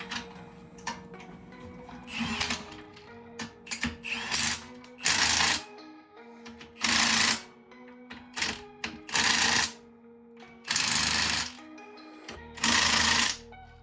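A power tool, likely an impact wrench, drives lug nuts while a wheel is mounted on a wrecked BMW M5 Competition: repeated loud buzzing bursts of about a second each, separated by shorter rattles and pauses.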